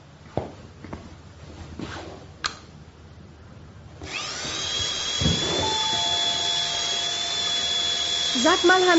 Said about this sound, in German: Ich hol die Bohrmaschine.